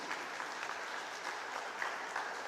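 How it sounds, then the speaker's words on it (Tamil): Wedding guests applauding in a hall, a continuous soft patter of many hands heard from a distance at low level, with no talk over it. "ஜோரா ஒரு கைத்தட்டலை கொடுப்போம்."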